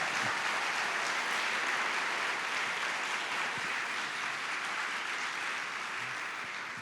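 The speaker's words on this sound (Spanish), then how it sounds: "Dar un aplauso al Rey de Reyes." A church congregation claps steadily in praise of the King of Kings at a Spanish-language service, a dense, even wash of applause that stays loud throughout and fades slightly at the end, with no voices over it.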